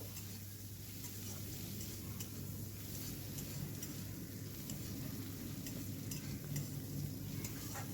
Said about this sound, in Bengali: চিংড়ি মাছটা আমি এভাবে ভেজে নিচ্ছি।